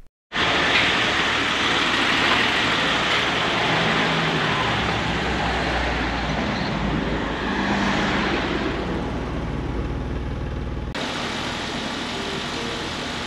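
A car engine idling steadily after its fuel mixture was set by reading the exhaust, a continuous broadband rumble held near and even for most of the stretch before cutting abruptly near the end.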